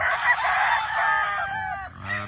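A single close, loud crow from a pure brass back black gamefowl rooster on a gamefarm, hoarse and drawn out, trailing off into a short clucking tail.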